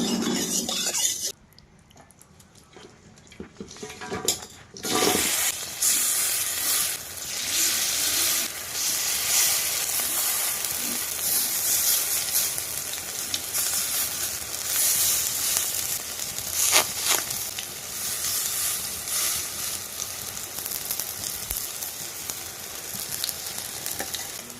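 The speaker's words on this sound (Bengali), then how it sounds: "কড়াইতে বন্ধুরা তেল দিয়ে দিলাম" Oil sizzles steadily in a hot kadai as banana flower chop fries in a Sundarban village kitchen, a loud continuous hiss that rises sharply after a brief quieter start and holds with small crackling swells, no voices.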